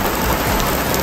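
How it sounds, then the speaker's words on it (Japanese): Heavy downpour of rain during a mushroom-foraging outing, a loud, dense and steady hiss of water pouring down close by, with no talking. "やべ、すげえ土砂降り。"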